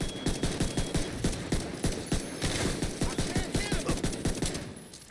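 Shotgun blasts from a video game, a rapid, steady string of loud punchy shots firing about every fifth of a second throughout, with dense crackling between them.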